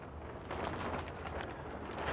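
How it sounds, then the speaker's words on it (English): Wind gusts outdoors at a boat-building site, a steady low rumbling buffet against the microphone that swells slightly toward the end, faint and continuous with no talk. "it's getting a bit windy here"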